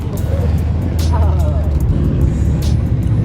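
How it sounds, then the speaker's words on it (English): A car rolling in at a car meet, steady engine and tire rumble filling the scene with crowd chatter and occasional sharp bursts around it. "Our car's rolling in still too."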